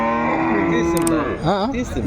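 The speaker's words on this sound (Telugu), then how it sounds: "ఇక్కడ ఒకటి హెచ్ఎఫ్ దూడ అయితే ఉంది" A young Holstein Friesian calf at a cattle market moos loudly and close by, a drawn-out bleating call that wavers and dips toward the end.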